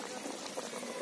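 Raw hilsa fish curry with mustard paste in oil simmers under a lid, giving a close, steady bubbling without a break.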